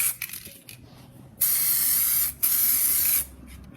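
Matte varnish sprays from an aerosol can in two long, loud bursts of close hiss with a short break between them, after some quieter handling sounds.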